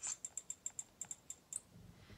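An Amazon Fire tablet's VoiceView screen reader gives a run of about a dozen short, crisp ticks as a slider steps down, evenly spaced and faint, followed by a soft low rumble.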